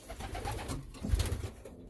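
Young racing pigeons in a loft coo softly and repeatedly at close range, throaty murmurs overlapping with faint rustling and no talk.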